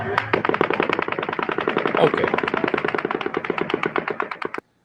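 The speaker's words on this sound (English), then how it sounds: "Volley of automatic gunfire from Mandalay Bay begins." Rapid automatic gunfire from the Mandalay Bay hotel in Las Vegas rattles in a long continuous burst of sharp, evenly spaced shots, loud and echoing, stopping abruptly near the end.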